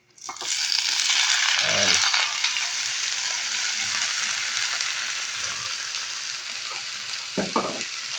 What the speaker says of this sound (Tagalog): igigisa lang muna natin siya, saka natin siya lalagyan ng toyo